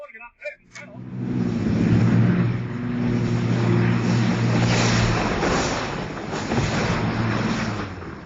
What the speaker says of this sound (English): The pilot tried to land the plane on the water, but it lost control and one wing hit the lake